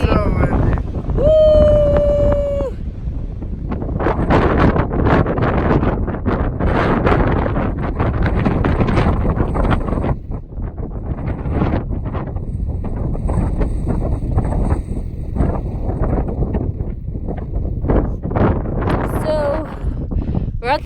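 Strong morning wind rushes across a mountain trail on the Continental Divide, a loud, continuous blustery roar buffeting close by while a hiker talks and exclaims over it.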